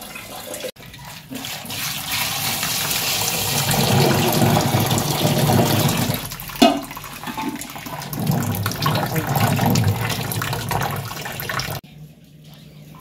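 Warm water is poured into a container at home, a steady splashing, gushing stream that runs close and fairly loud for most of the span before stopping abruptly near the end.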